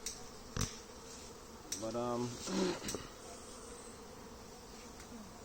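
Honeybees buzz around an open ten-frame hive during a move from nucs into brood boxes, a steady soft drone under occasional speech and brief handling clicks.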